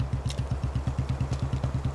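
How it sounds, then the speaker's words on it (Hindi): A scooter engine sputters and clatters in a rapid, even chugging rhythm, close and moderately loud, without catching into a steady run. "मेरी स्कूटर स्टार्ट नहीं हो रही"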